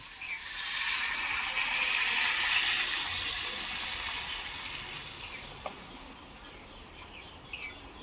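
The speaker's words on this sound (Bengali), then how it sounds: "এখন জল দিয়ে দেবো" Water poured into a simmering pot of potato curry, a steady hissing pour that is loud at first and gradually eases off, with no talking.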